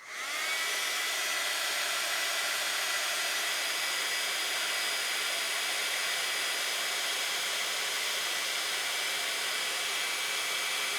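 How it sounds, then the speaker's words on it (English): A heat gun blows steadily at embossing powder on a stamped card, a loud continuous fan-and-air hiss that starts abruptly and holds unchanged throughout, with no talking. "let's heat emboss this."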